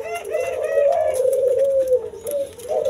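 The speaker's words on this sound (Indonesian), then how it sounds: "Oke, ini juga tekukur." Near and alone, a spotted dove (tekukur) coos in a soft, throaty, rolling phrase that runs almost the whole time, with faint chirps and rustles behind it.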